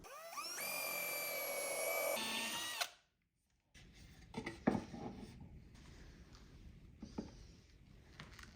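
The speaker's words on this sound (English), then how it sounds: "I'll go ahead and pre-drill holes on the inside of the drawer" A power drill whines steadily at high speed pre-drilling holes in a wooden drawer, stops abruptly, then scraping and knocking of wood handling follows with brief thumps.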